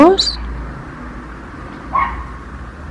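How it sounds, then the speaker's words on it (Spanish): An angry dog barks out in the street: a couple of brief, distant yelps heard faintly behind a close voice speaking over steady room noise. "Hay un perro enfadado en la calle."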